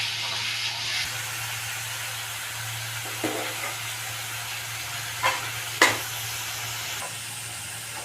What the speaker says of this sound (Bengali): এবার এই মশলাটাকে ভালোভাবে কষে নেব।